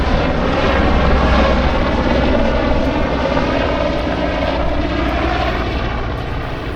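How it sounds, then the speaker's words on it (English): Loud, steady rotor and engine roar from a helicopter passing close overhead at Sandbanks beach in Poole, filling the whole clip with a dense, unbroken drone. "Arriving at the beach, I'm drowned by the noise of a chopper."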